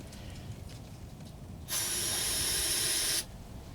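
A steady, loud hiss of aerosol starting fluid spray bursts out for about a second and a half, then cuts off abruptly, over faint background noise.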